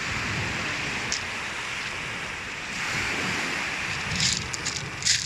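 Sea waves roll in at a shore in Lebanon as a continuous loud wash of surf with gusty wind noise on the microphone, the rumble swelling and easing without a break.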